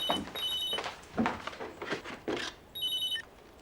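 A telephone rings in repeated short electronic bursts, at a moderate level, over a room with soft movement and faint background noise.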